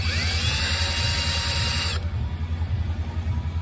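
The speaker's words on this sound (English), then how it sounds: "drill through the rubber" A steady power drill with a 1/2-inch bit whirs loudly and continuously through rubber on a twin rail track, with a sharp shift in pitch midway as the bit pushes through material.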